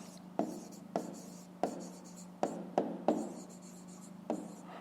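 A pen writes out a fifth-grade math solution by hand on paper, with about seven distinct scratchy strokes and taps in an irregular rhythm, close and fairly quiet, with no talk.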